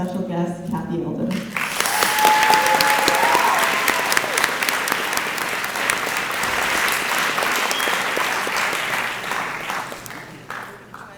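An audience breaks into loud, sustained applause for a guest speaker at a school event with seniors, clapping swelling after a brief opening voice and holding steady before slowly tapering off.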